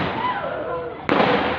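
Fireworks in a neighborhood, with a sharp burst cutting in over a continuous rumbling crackle of distant pyrotechnics.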